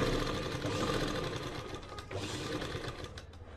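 A sewing machine stitches a salwar bottom, running steadily and close with a continuous mechanical whir and rapid needle chatter, its pace shifting slightly as the seam turns.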